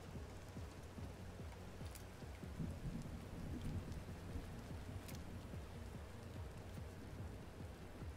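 Steady rain falling in the Fortnite video game, a dense, even patter with low rumbling thunder underneath and a couple of sharper crackles, heard alone without any voices.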